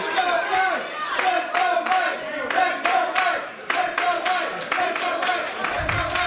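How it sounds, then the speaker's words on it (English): A wrestling crowd at a CCW Wrestling event cheers and claps rhythmically for a wrestler, loud and sustained, with sharp clap bursts in a repeating pattern and a commentator's voice faintly underneath. "That's a fan cheer for the Colossal Mike Law."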